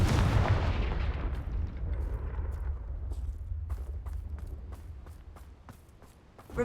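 A booming blast from the Confringo fire spell in Hogwarts Legacy, a heavy low explosion with a long rumbling decay, followed by scattered light footstep-like clicks.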